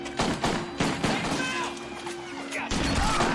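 Rapid bursts of gunfire in a prison-yard shootout from the action film Escape from Death Block 13, loud crashing volleys stacked closely together with dense impacts and background film mix.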